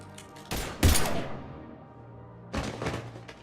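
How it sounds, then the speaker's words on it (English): Gunfire in the Mass Effect 3 video game: a short burst of shots, then a heavy blast that rings out and fades, followed by another rattling volley. "Now open fire!"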